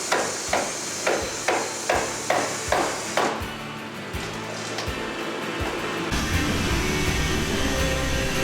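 Sharp hammer blows ring on the metal panels of a 1966 Suburban during rust repair, about seven evenly spaced strikes close by, followed by a steadier rough scraping noise and a broad rushing sound.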